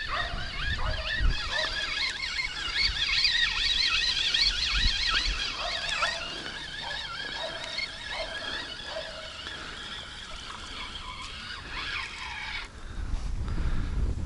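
A dog barks repeatedly outdoors near a riverside fishing spot by a dugout shelter. The short barks come in an irregular series at moderate distance over a constant background hiss, with no talking.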